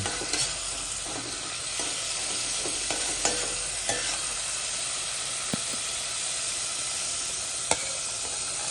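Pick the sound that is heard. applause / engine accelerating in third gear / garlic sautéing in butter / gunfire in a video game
garlic sautéing in butter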